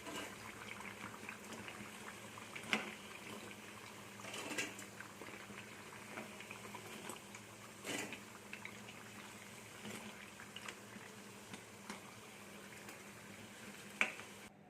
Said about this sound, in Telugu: ఇవి గోల్డ్ కలర్ వచ్చిందాక వేపుకోవాలి